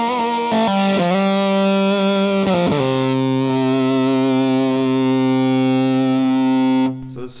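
Earthquaker Devices Fuzz Master General germanium fuzz at maximum gain, a loud, thick guitar chord struck a few times, then one sustained fuzzed chord ringing out before cutting off.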